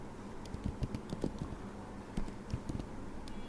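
Quiet, close typing on a computer keyboard, irregular clusters of soft key clicks with short pauses, while an Excel formula is entered.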